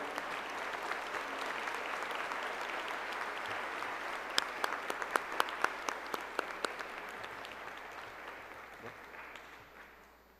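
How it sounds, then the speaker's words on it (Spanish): An audience at a state oratory championship breaks into applause, sustained and fairly loud, with a few close, sharp claps standing out near the middle before the clapping tapers off. "Un aplauso, por favor"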